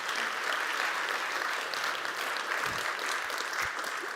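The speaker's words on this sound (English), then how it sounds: "A big applause." A conference audience applauds an award nominee, giving a steady wash of clapping from many hands that lasts the whole stretch, with a few louder thumps near the end.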